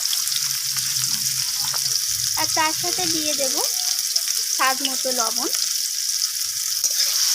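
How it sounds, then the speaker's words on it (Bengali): Mango pieces fry with tempering spices in a pan for a sweet-sour chutney, giving a constant close sizzle while a person speaks briefly over it. "তো সেই আমটাকে আমি ফোড়নের সাথে নাড়াচাড়া করে ভেজে নিই।"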